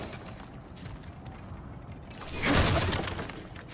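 Smashing through objects in God of War Ragnarök, a loud crash with shattering debris and creaking wood cracks after quieter mechanical rattles, fairly close, with no voices.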